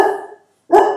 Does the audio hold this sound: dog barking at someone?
yes